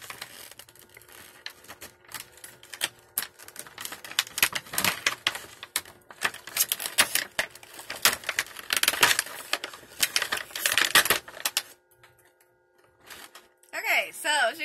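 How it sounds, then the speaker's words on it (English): Packing tape pulled and peeled off a figure box in a series of loud, irregular ripping and crackling bursts, close up, with short pauses between pulls. "I hate all this tape"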